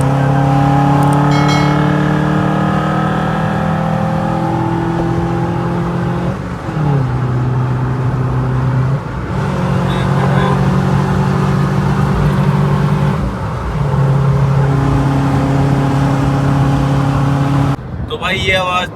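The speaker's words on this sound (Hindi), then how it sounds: "ये आवाज थी DIA BMC एयर फिल्टर की" Loud Mahindra Thar SUV engine revving with a snorkel and BMC air filter, in long sustained pulls, pitch rising and dropping repeatedly with a strong harmonic whine, close and continuous.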